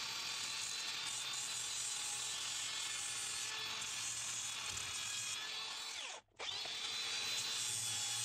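A power drill bores steadily through a thick metal plate during a car trailer door renovation, a sustained high whine with a brief pause near six seconds before it resumes, with no voices.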